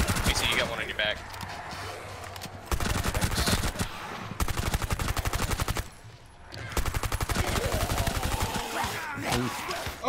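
Rapid automatic gunfire in the video game Rainbow Six Extraction's Outbreak mode mows down hordes, with loud bursts broken by short pauses while players talk over it.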